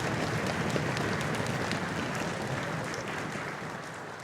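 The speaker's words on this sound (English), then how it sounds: "a round of applause for Mrs. Randall" Steady, dense applause fills a school auditorium at a middle school 5th grade band's first concert, holding evenly loud throughout and easing slightly toward the end.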